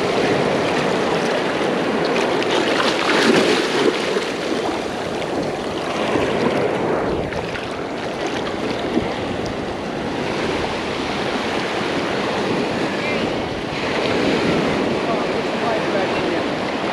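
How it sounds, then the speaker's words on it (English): Ocean surf at a Hilton Head Island beach during surf fishing, a steady loud broadband wash of waves rolling in continuously, with some voices talking faintly underneath. "that flowing water"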